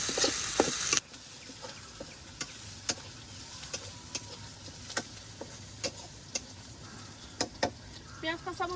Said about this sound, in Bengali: পেঁয়াজ কাঁচামরিচ গুলো ভালোভাবে ভেজে নিচ্ছে